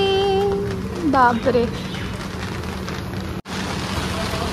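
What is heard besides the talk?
rain falling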